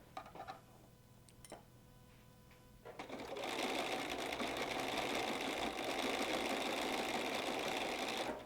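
A sewing machine stitches a Cuddle pillow while a stiletto holds and guides the fabric through. A few faint ticks come first, then a loud, steady mechanical whirr runs continuously for the last five seconds.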